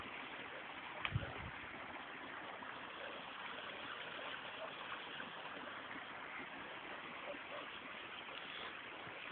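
A village river flows in a steady, even rush of water, heard faint and continuous throughout with one brief thump near the start.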